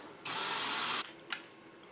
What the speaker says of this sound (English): Now when I spin the drill, this wire will start coming off of the spool onto the bobbin.